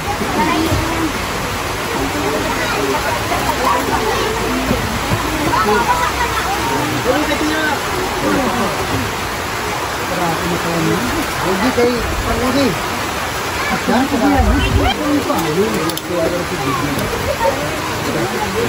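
Steady rain pours down at an outdoor Christmas charity giveaway, a dense continuous wash of falling water heard close and loud throughout, with people talking over it.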